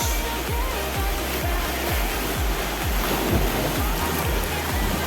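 Ocean waves at a beach roar steadily up close, a dense continuous wash of surf that fills the whole span, with faint rhythmic thumps running underneath.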